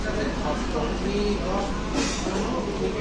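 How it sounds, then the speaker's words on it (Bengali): EMU fast AC local train running between Ranaghat and Sealdah, a steady close rumble of wheels and carriage noise with a brief louder swell, under faint talk. "বন্ধুরা, আমাদের ট্রেন চলে এসছে।"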